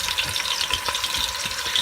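Bacon frying in a pot as a wooden spoon stirs it, a steady bright sizzle with soft scraping and knocking beneath, close and continuous.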